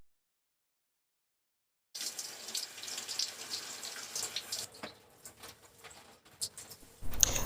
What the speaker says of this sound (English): So this is me rinsing out the product.